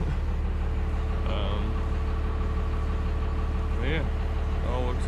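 A 12-valve Cummins 6BT diesel with a P-pump idling, giving a steady low rumble close by, while a voice talks briefly over it.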